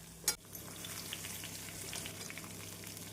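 Onion and garlic sautéing in a pan, a soft steady sizzle and crackle after a brief sharp clatter at the start, fairly faint and without talk.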